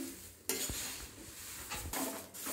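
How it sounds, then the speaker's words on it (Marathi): Thin poha chivda being turned slowly in a pan gives a few quiet scraping and rustling stirs with light metal clinks, separated by short pauses, no voices. "खूप हळूहळू परतायचे, चारही बाजूने चांगले परतून घ्यायचे।"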